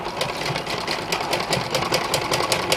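A sewing machine hums steadily and close by while stitching a pocket onto a tunic, its needle tapping in a quick, even rhythm throughout, with no voices.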